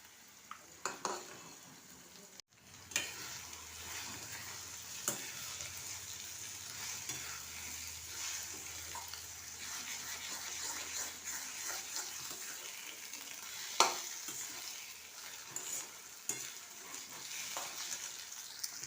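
Three eggs sizzling and frying in a pan over high heat with ground spices, a steady soft crackle with occasional stirring and utensil clicks, fairly quiet and without talk.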